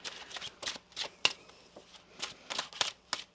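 Tarot cards being shuffled in a series of quick, crisp riffling bursts, each separated by short pauses. The sound is close and moderately quiet.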